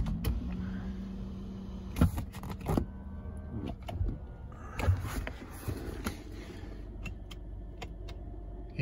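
Power seat motor in a 2018 Hyundai Sonata whirring as it adjusts, a low steady hum under several sharp clicks and knocks from the cabin.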